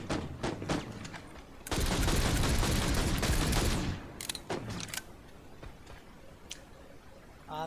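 Gunfire in the video game Planetside comes as a dense burst of rapid shots for about two seconds, followed by scattered single clicks and shots, fairly close.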